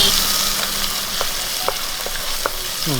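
Onions frying in a pan as the base for a fish curry, a steady close sizzle with a few light taps of a stirring spoon, no voices.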